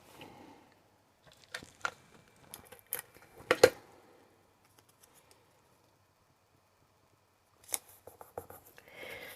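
Scissors trim paper for a scrapbook tag in a few quiet snips and crisp cuts, with near-silent pauses between two short bursts of cutting.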